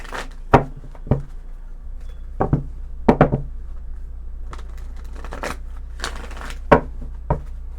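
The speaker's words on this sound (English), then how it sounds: "Couple more shuffles." Tarot cards are shuffled by hand nearby, giving scattered sharp snaps and soft taps at irregular intervals, with quieter rustling between them.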